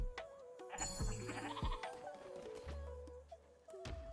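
Goat bleating in the video game Cult of the Lamb, a few wavering nasal bleats up close over a steady game music bed with soft thumps.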